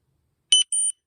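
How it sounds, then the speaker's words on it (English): Two short high-pitched electronic beeps in quick succession, clean and close, with silence before and after. "wait for the beep"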